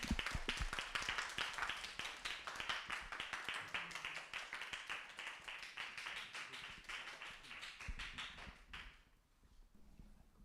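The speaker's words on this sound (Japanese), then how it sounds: "大きな拍手でお迎えしましょう" Audience applause at a lecture event in Japan, a dense burst of many hands clapping that runs steadily for about nine seconds, then fades out near the end.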